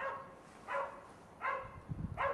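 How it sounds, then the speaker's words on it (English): A dog barking at a snowy early-morning wild camp, three faint, distant barks spaced roughly three-quarters of a second apart over quiet outdoor background. "there's a dog"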